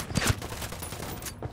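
Gunfire in the video game Ghost Recon: a short burst of rapid shots with sharp cracks near the start, then a continuous rattling volley at steady loudness, ending with another loud report.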